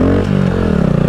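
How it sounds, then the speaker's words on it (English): Honda Grom motorcycle engine revving hard during a wheelie attempt, a loud, close, steady buzzing drone held for about a second. "I'm gonna do a dank wheelie right here."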